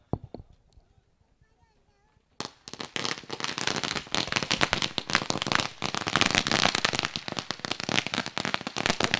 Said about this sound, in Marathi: या पाहुण्यांचा शुभ सन्मान फटाक्यांच्या आतषबाजीत